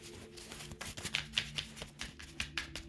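Tarot cards are shuffled by hand up close, with soft papery slaps and riffles coming in uneven bursts at a quiet level and no talking.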